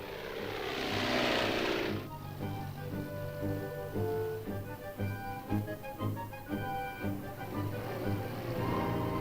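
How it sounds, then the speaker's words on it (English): A propeller-driven military liaison plane flies overhead on a border patrol, its engine drone loud and steady, with a broad roaring burst in the first two seconds before settling into a humming, harmonic engine tone that persists alone throughout. "we exchange reports with liaison planes, which observe the border area from the air"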